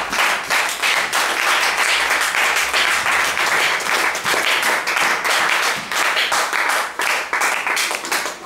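A church congregation applauds loudly during a worship service, a long burst of vigorous clapping with rhythmic, pulsing accents that carries at full strength for several seconds.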